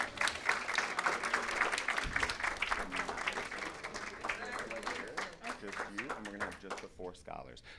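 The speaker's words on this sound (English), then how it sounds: "one more round of applause for Minal" Round of applause from the audience at a Maryland State Board of Education meeting, steady clapping filling the room throughout, with voices mixed in underneath.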